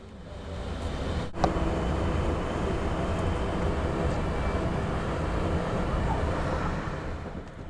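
Passenger train crossing the towering New River Bridge in West Virginia, a continuous broad rumble with steady rolling noise and a brief sharp clank near the start, heard from on board.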